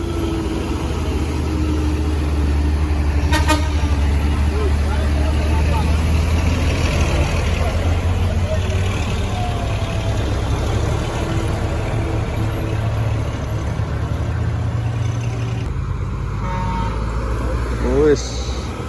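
A bus follows closely behind on the road, heard as a continuous heavy engine and road roar with a vehicle hum throughout, mixed with passing traffic and a brief horn-like tone near the end.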